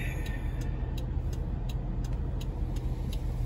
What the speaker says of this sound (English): Look at the traffic.